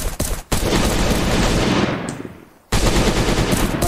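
Pistol gunfire in the video game Last Day plays as dense, rapid bursts of shots, loud and close, broken by a brief gap and a fading tail before another burst starts.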